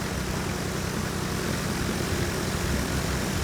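A propeller airplane engine in the video game Mouse: P.I. For Hire drones loud and steady with a deep, rumbling hum that holds constant for the whole stretch.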